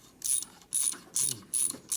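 A ratchet tightens cover screws during a Harley shovelhead engine rebuild, giving five close, crisp bursts of rapid clicking in an even back-and-forth rhythm.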